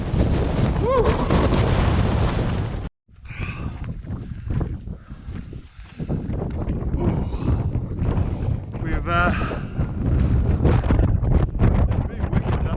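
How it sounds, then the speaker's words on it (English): Strong gusting wind buffets the microphone on the exposed Y Gribin mountain ridge, a loud continuous roar with a brief dropout and surging gusts, with faint voices in the background. "Really wicked, that wind."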